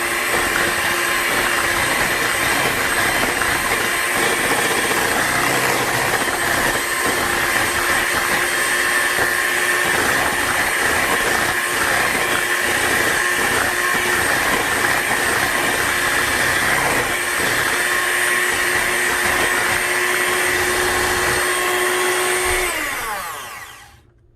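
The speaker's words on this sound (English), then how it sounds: "that's why I like my mixer so much, because I can get the strings out" Electric stand mixer beating sweet potato pie filling, a steady loud motor whir with a high whine running continuously for over twenty seconds before cutting off at the end; no talking.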